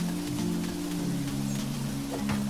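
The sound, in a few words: rain falling in Monster Harvest video game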